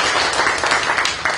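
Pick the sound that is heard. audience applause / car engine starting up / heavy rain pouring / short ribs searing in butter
audience applause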